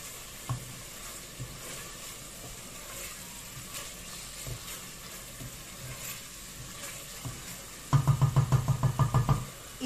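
A pot of Mexican carne guisada sauce is stirred with a steady sizzle, scraping and knocking building at the end into a quick run of rhythmic spoon taps against the pot, close and clear.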